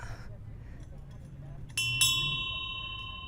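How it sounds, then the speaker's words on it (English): A small ship's bell aboard the restored Mayflower II replica is struck twice in quick succession. Each strike gives a bright clang whose ringing tone fades slowly, preceded by a soft background murmur. "We can ring the little bell."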